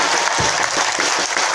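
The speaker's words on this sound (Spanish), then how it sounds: "Fuerte los aplausos para los abanderados." Loud, close applause rings out for school flag bearers at the Alberto Turpo educational institution, a thick continuous clatter of many hands with a few sharper claps standing out.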